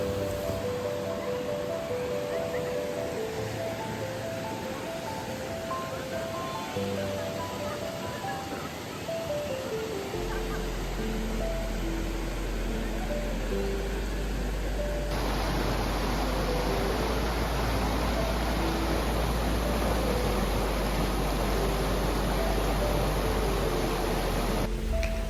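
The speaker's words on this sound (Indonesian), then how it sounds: "Kita bisa menikmati aliran sungai yang begitu indah." A river at a Bromo valley campground flows at six in the morning as a steady, full broadband rush with soft melodic music over it, growing louder in the second half.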